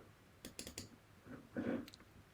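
Computer mouse and keyboard clicks sound close and quiet, a quick cluster of sharp taps followed by a few more after a short pause.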